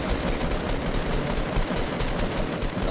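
Sustained automatic gunfire from a rifle in Fortnite Battle Royale, a dense, continuous rattle of rapid shots at steady loudness with no pauses, no talking over it.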